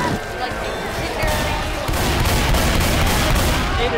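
Rapid gunfire in the video game Left 4 Dead 2, a dense, loud, continuous burst of shots filling the whole stretch, close and unbroken.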